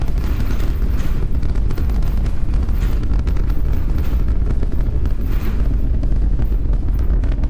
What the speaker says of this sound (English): 33 out of 33 Raptor engines lit on the Super Heavy booster, arcing away from us here at Starbase